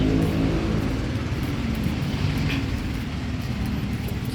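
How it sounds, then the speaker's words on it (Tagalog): An LRT train rumbles past nearby, a steady broadband roar of wheels and motor that holds loud and even throughout without a break. "Ito pala yung LRT."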